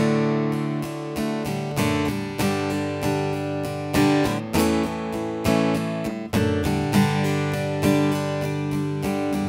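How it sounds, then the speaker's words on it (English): An acoustic guitar strums a full chorus pattern from a worship song, steady rhythmic down-and-up strokes with accented chords, loud and close, played alone without talk. "The chorus strumming pattern could vary, but it would sound something like this."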